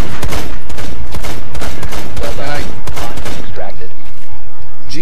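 Loud bursts of gunfire in the video game Rainbow Six Siege, heavy clipped shots in quick clusters with voices faintly underneath.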